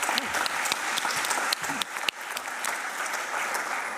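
Sustained clapping from a conference audience, even and moderately loud, with a few sharper individual claps standing out in the dense patter.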